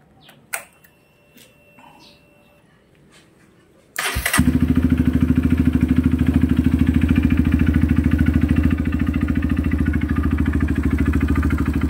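A Honda CRF150 motorcycle with a knocking connecting rod and loud exhaust cranks and catches, then settles into a loud, steady idle with a rapid pulsing rhythm close by.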